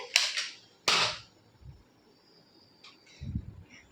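A child's toy gun fires two sharp, loud snaps close by, a second or so apart, followed by quieter handling clicks and rustles.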